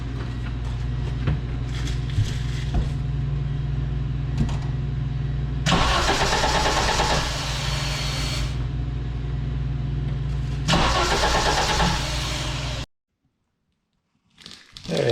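An Audi coupe engine cranks and fires, settling into a steady rumbling idle with surges of revving, close and loud with no talk, before cutting off abruptly near the end.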